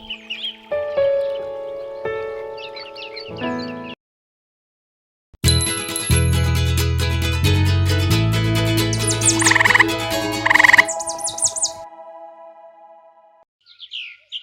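A cartoon frog croaks and chirps in a children's animated fable, its calls set against bright, busy music with a loud swell midway and a short silent gap.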